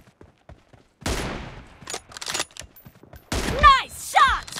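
Sharp gunshots from an M24 rifle in a team deathmatch shooter game, several loud cracks spaced through the clip with fleeting background game noise between them.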